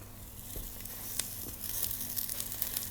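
Eggplant slices sizzle in a frying pan, a soft steady crackle with scattered pops and faint scraping as pieces are laid side by side.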